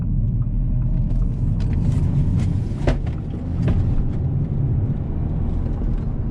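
An Audi A4 Quattro cornering at a quick pace, heard from the cabin as a steady loud low engine and road rumble with faint tire noise throughout.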